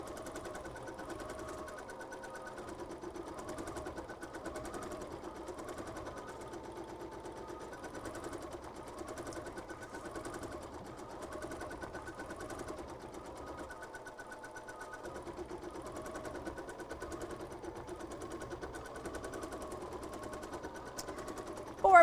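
A Kimberbell embroidery machine stitches quilting lines on an Erin crossbody bag design held in the hoop, a steady, continuous mechanical whir with rapid needle rhythm running unbroken at moderate loudness, with no talk over it.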